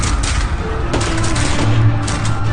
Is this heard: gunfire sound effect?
yes